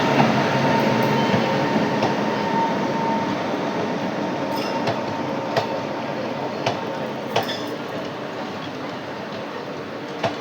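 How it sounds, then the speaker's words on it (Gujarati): Porbandar-Rajkot passenger train hauled by a WAG-9 locomotive, with ICF coaches, arriving at a station: a loud, steady rolling rumble with rhythmic wheel clacks over rail joints, heard close and continuous. "થી આવી રહી છે પોરબંદર રાજકોટ પેસેન્જર. પોરબંદર રાજકોટ પેસેન્જર વેગ 9 લોકોમોટિવ के साथ."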